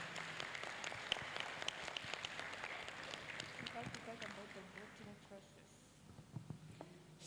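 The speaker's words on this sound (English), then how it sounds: "Please give a round of applause." Scattered applause from an audience at an international student summit, uneven claps mixed with murmuring voices that thin out toward the end.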